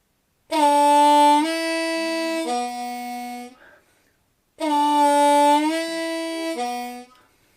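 Harmonica lick, a scooped draw on hole 2 sliding over to a plain hole 1 draw, played twice as two sustained reedy phrases with a short gap between, loud and alone.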